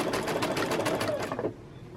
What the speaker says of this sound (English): So I'm just going to start stitching. It's going to do some tacking stitches first,